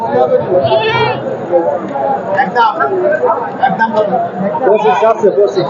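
Goats bleating at a crowded goat market, several wavering cries rising over a steady babble of buyers and sellers talking close by.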